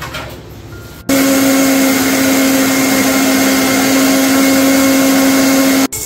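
A mixer grinder grinds spices into a paste for a burnt-spice chicken curry. Its steady, loud motor whine starts after a second of quiet, runs evenly for about five seconds, then cuts off abruptly. No one speaks.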